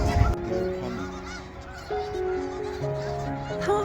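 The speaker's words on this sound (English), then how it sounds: "this is early February, the season where all those goose started moving to the north" A large flock of snow geese honks continuously during February migration at a Skagit Valley wildlife area, a dense chorus of overlapping calls at mid distance.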